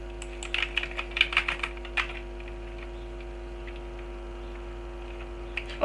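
Computer keyboard typing in a burst of quick key taps during the first two seconds, then a few isolated clicks over a steady mains hum.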